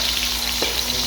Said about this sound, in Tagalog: lulutuin natin yung sibuyas.